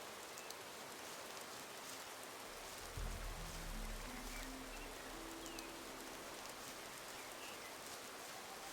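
Rainfall in the video game Gothic 2, a constant soft hiss that carries on throughout, with a low rumbling thump and a brief tonal shift partway through.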